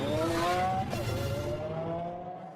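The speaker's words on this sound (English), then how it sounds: "the first track run of the Aventador" A Lamborghini Aventador prototype on a test track in 2008 accelerates past, a rising engine howl with tire noise that peaks early and then fades as the car pulls away.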